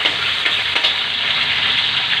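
Onions and garlic fry in a pan with a loud, steady hiss and sizzle, crackling bursts and brief stirring scrapes, no voices.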